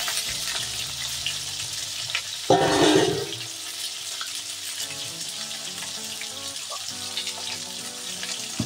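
Taro and green chilies hit hot oil in a pan with a brief loud sizzle burst, then a steady low frying hiss continues under a faint background hum.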